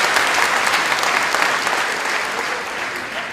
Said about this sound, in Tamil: அறிவிப்புக்கு உங்கள் கைத்தட்டை நல்லா செய்யலாம்